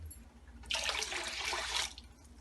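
Water is poured from a cup into a pot of moong daal khichri being cooked at home: a single steady splashing pour lasting just over a second, close and clear, with no talking.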